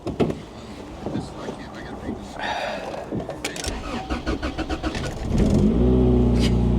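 Square body Chevy truck in rough condition, its engine cranking with rhythmic starter pulses before catching and settling into a loud, steady low idle, with voices talking over the cranking.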